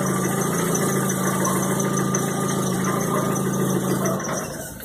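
A Kia Rio engine idles with a steady mid-pitched hum and faint knock, then winds down as it is switched off, the sound fading over the final second.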